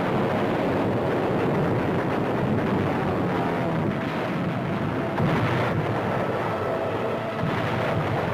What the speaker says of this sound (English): Every fortified island in the Truk Atoll is given a thorough blasting by a sky armada of overwhelming force